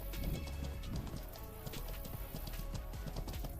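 Horse hooves gallop in the fantasy game Dark and Darker, a fast, close rhythmic clip-clop drumming steadily throughout.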